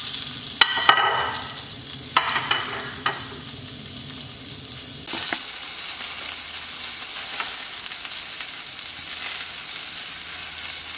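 A sausage patty of ground pork trimmings with a seasoning blend frying in a pan, a steady close sizzle throughout with a few scraping stirs early on, no voices.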